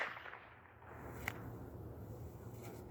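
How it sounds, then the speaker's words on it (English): A single sharp crack from a bullwhip flicked forward overhead, one brief snap standing alone in a quiet outdoor space. "So I'll start off by flicking the whip forward, moving around, feet in the air"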